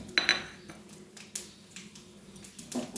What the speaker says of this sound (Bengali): এবারে একটু 5 ফোড়ন, শুকনো লঙ্কা, তেজপাতা দিয়ে দিলাম ফোড়নে।